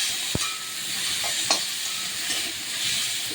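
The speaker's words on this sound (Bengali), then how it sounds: "একটু নেড়ে চেড়ে নেব।" Fish roe sizzles in a frying pan while turmeric and salt are stirred in, making a soft continuous hiss broken by a few sharp clinks of a spoon against the pan and no talking.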